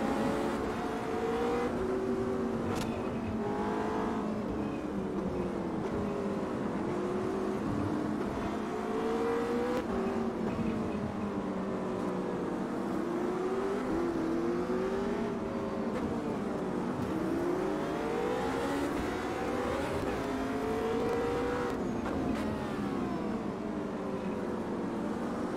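Ferrari race car engine in the Automobilista 2 sim racing game, revving continuously with pitch rising through each gear and dropping on shifts and braking, one steady loud stream throughout.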